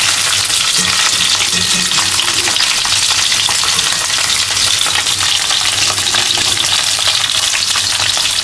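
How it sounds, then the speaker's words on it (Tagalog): Chicken wings with garlic and ginger fry in hot oil, giving a loud, steady sizzle and crackle that runs unbroken throughout, with occasional stirring scrapes and no voices. "Ang bango kapag may ginger, guys, mag-fry."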